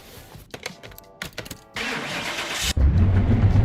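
A car engine in the Car Mechanic Simulator 2021 game is cranked by the starter, catches and settles into a loud, steady idle.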